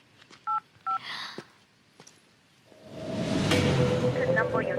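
A mobile phone keypad sounds two short dialing beeps early on, followed by a rising whoosh and a steady hum with faint tones underneath.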